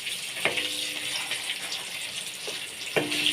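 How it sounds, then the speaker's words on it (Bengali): Eggs fry in a wok with turmeric, a steady bright sizzle of hot oil broken by a few sharp utensil scrapes and clicks. "ডিম প্রায় ভাজা হয়ে গেছে।"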